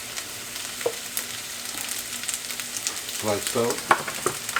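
Oil sizzling in a pan while pancakes cook, a soft continuous frying crackle with light scraping, under a man's brief spoken remarks.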